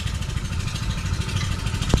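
Small engine running steadily at close range, a continuous low-pitched chugging rumble with a brief sharp knock near the end.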